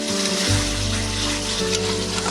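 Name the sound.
taro stolons added to hot oil, frying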